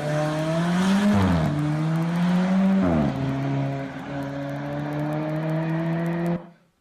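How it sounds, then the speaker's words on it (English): A 250-horsepower Alfa Romeo 4C sports car launches down a drag strip, its engine rising in pitch and dropping at two quick gear shifts as it pulls away and then fades out. "on the left-hand lane of this drag strip was an Alfa Romeo 4C. That's a 250 horsepower sports car."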